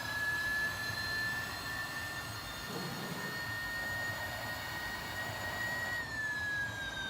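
An electric car drives in Real Racing 3 with a steady, loud high-pitched electric whine and tire hum that rises slightly in pitch before dropping near the end, with no talk.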